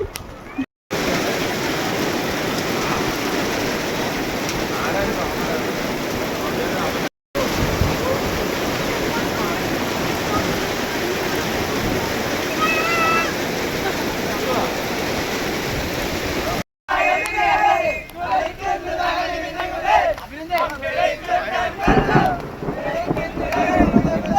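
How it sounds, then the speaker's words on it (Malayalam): Dense, roaring wash of heavy rain and wind during a thunderstorm at Ponmudi buffets the microphone for long stretches, then gives way to a rougher, gusting patch near the end. "ഞാൻ പറഞ്ഞില്ലേ നല്ല മഴയാണെന്ന് ഭയങ്കര മഴയായി ഇടിയായി മിന്നലായി"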